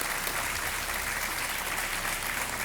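A studio audience at a televised quiz show claps in a thick, sustained burst of applause, loud and even throughout with no voices over it.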